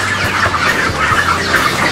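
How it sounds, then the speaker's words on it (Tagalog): A flock of large poultry chickens clucks continuously up close, overlapping chatter with occasional louder squawks. "Yan, malalaking manok yan."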